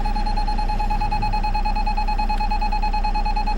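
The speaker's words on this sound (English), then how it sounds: "The beeping's because I have low air." A low air pressure warning sounds inside a coach on a cold day as the diesel engine warms: a steady high electronic tone holds constantly over a dense engine idle rumble.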